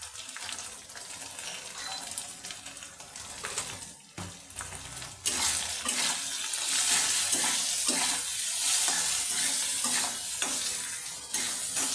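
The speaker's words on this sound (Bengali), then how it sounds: "এই মশলাটাকে আমি 2 মিনিট কষিয়ে নেব।" Spice masala frying and being stirred in a pan with a bay leaf, for Bengali-style braised goat brain, making a steady sizzle with scraping stirs that grows louder and brighter after a short pause partway through.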